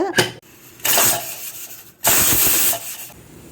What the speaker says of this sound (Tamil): பாருங்க, ஃபாஸ்ட்டில் 1 விசில், சிம்மில் 2 விசில் வந்துருச்சு.